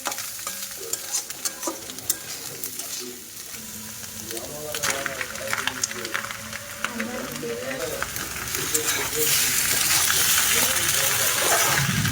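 Potatoes frying in hot oil on a gas stove with sauce, oil crackling and spattering steadily and growing louder toward the end, with people talking over it.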